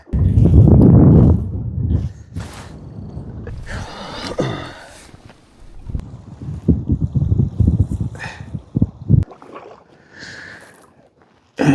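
Wind gusting at the shore of Lake Eucumbene, buffeting the microphone in heavy low rumbling bursts that swell and fade unevenly, loud and close throughout.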